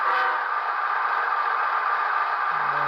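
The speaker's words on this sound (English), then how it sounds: "There's a quick horn honk." A model diesel locomotive horn from a Tsunami 2 DCC sound decoder in an Athearn ES40DC/ES44DC gives one short, steady, buzzy honk at close range, followed by a low tone at the very end.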